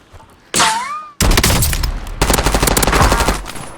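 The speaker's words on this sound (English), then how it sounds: "someone else just shot at me from behind" Video game gunfire: a single sharp shot with a ringing tail, then rapid automatic bursts, loud and close, in two long volleys.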